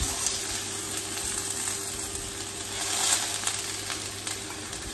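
Tofu sizzles and fries in a Korean Edelkochen 304 stainless steel pan with a three-layer base, a steady close crackle with occasional stirring, no talking.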